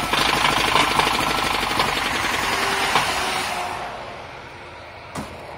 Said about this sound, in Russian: Стуканул мотор?